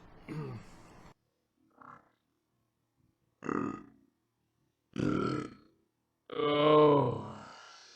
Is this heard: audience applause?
no